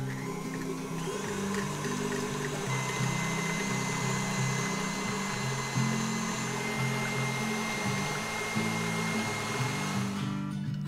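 An electric mixer whirs steadily, creaming softened yellow butter with brown sugar into a light whipped mix. The motor drones loud and even for the whole stretch, with small shifts in pitch as the load changes and no speech.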